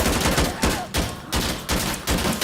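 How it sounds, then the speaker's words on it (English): Rapid automatic gunfire in the shooter game Insurgency: Sandstorm, loud close bursts of rattling shots in several volleys separated by brief pauses, no talking over it. "Unless he was shooting at someone that was behind me."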